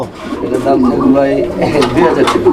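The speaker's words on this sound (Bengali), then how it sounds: "ওর ডাকটা দেখানোর জন্য ও কিরকম ডাকে দেখেন আপনারা" A pigeon hen coos at a market stall, a low repeated burbling call heard close up under a busy background of other birds and voices.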